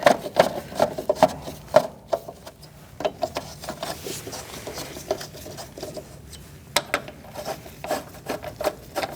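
Lug nuts on the rear wheel of a 2016–2019 Chevrolet Cruze are tightened by hand, giving faint, close metallic ratcheting ticks and scrapes in irregular bursts, with no speech.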